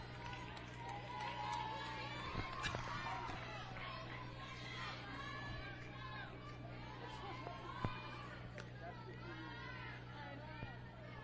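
Spectators at a high school varsity softball game chatter steadily in the background, a faint, diffuse babble of many voices with occasional shouts and knocks.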